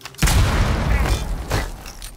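A breach charge detonates in Tom Clancy's Rainbow Six Siege, a sudden loud booming blast with a deep rumbling tail, followed by a second softer thump about a second later.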